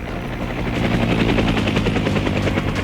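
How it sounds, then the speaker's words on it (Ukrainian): A video game helicopter's rotor in Arma 3 S.O.G. Prairie Fire chops loudly and steadily, the rhythmic thumping swelling slightly as it passes close overhead. "О, летить гелікоптер."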